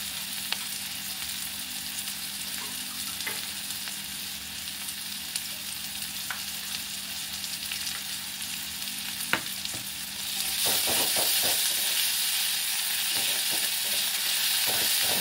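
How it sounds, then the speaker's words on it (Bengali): A Bengali fish-head muri ghonto is sautéed with ginger and cumin paste in a pan: a continuous close sizzle with scattered stirring scrapes, growing louder and brighter for the last few seconds. "ভালো করে এটা কষিয়ে নেবো।"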